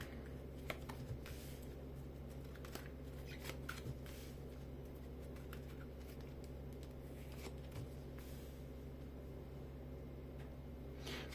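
Soft, quiet shuffling and riffling of tarot cards with occasional light taps, steady over a low background hum, no talking.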